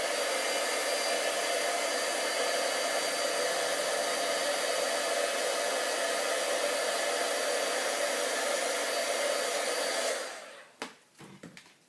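A heat tool heat-setting nail art paint blows with a loud, steady whoosh for about ten seconds, then cuts off, leaving a few faint clicks and handling noises.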